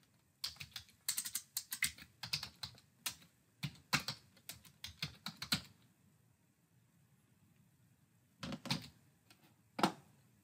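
Typing on a computer keyboard, a close, quiet run of rapid key clicks with short pauses, then a few isolated later taps, with no talking.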